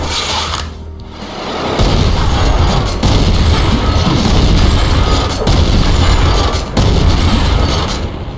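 Heavy booming gunfire from a 50 cal sniper rifle in the game Alien Vendetta, loud and sustained with dense low-end blasts after a brief quiet opening, continuing nearly the whole stretch with a short dip near the end.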